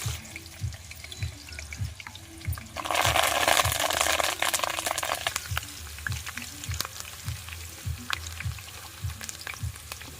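Green chillies and curry leaves frying in a pan with a steady sizzle and a louder burst of crackling partway through, with repeated soft scraping or stirring knocks and no talk.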